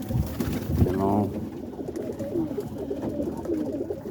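Roller pigeons coo softly while being fed by hand, a few low, throaty calls up close, with a short louder burst near the start and quieter shuffling after.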